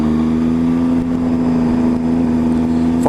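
Steady engine drone of a car following a motorbike along a favourite biker road, loud and continuous with a strong low hum and no talk.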